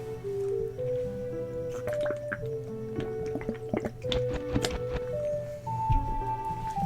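Link drinks water in Zelda: Ocarina of Time, a string of soft wet dripping and gulping game effects over steady, melodic background music.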